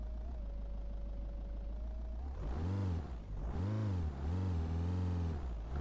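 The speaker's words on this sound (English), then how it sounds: "The actual sound of the engine actually sounds like a diesel car." Simulated truck engine in a Euro Truck Simulator 2 mod with a diesel-car-like tone, holding a steady idle before revving up and down in three rising and falling sweeps, loud and close with no talk.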